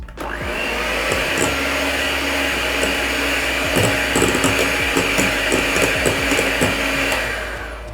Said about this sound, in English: So I'll use my hand mixer to smoothen my whipping cream.